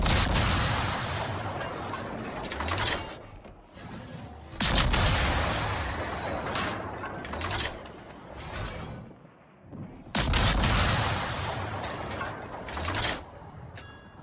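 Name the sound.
naval gunfire in World of Warships video game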